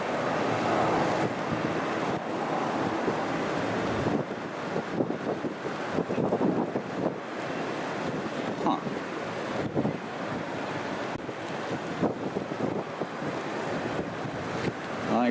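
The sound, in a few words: wind at the beach, Sint Maarten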